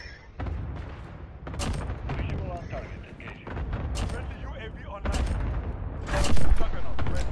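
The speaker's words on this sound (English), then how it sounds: "Enemy cluster strike incoming." Cluster strike explosions in the Modern Warfare video game go off in a rapid series of loud blasts and booms with gunfire mixed in, while voices talk over the barrage.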